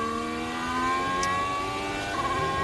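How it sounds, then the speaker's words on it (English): Sebastian Vettel's Formula One car screams past at the 2020 Tuscan Grand Prix, a high whining engine note holding steady and fairly distant, blended with broadcast background noise. "Sound you can hear, Sebastian Vettel."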